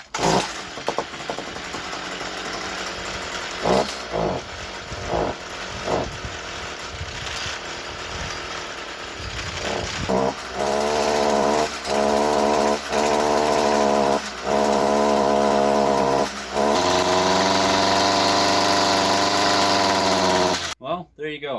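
A Stihl string trimmer with a newly replaced carburetor is pulled several times with short sputtering attempts, then fires and runs loudly at a steady rev with throttle changes, close by.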